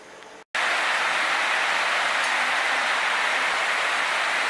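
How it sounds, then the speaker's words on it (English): Heavy, steady rain pours down in Laos as a dense, loud hiss, starting abruptly after a brief pause and continuing without letup. "I'm not sure if you can hear me over the rain"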